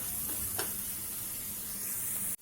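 Masala for chena tikki curry frying in a pan, a steady soft sizzle with a couple of brief stirring scrapes, ending in an abrupt cut.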